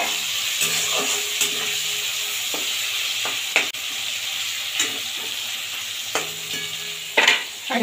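Prawns fry in hot oil in a pan for a Bengali cauliflower and prawn curry, giving a steady bright sizzle broken by scattered utensil taps and scrapes and a louder clatter near the end, with no voices.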